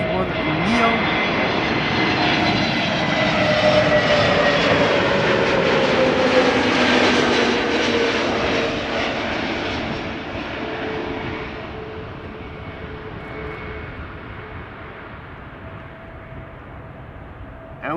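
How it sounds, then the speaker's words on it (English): Transavia Airbus A321neo arriving at Amsterdam Schiphol from Barcelona: a loud, sustained engine roar that swells as the jet passes, then slowly fades into a lower, distant rumble. "this is Transavia arriving from Barcelona, an A321 Neo"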